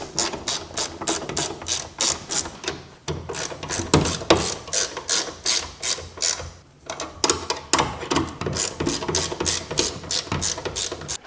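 A ratcheting wrench clicks rapidly in repeated bursts while tightening riveted-cabinet bolts on a Yukon 46-inch 9-drawer mobile storage toolbox, loud and close, with brief pauses between strokes.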